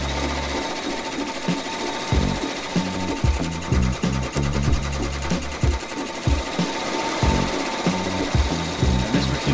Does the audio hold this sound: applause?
no